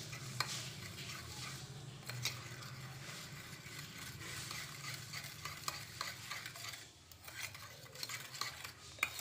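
Sugar stirred into milk to dissolve, with a spoon scraping and swirling around the vessel in a continuous soft rhythm under a low background hum, close and fairly quiet.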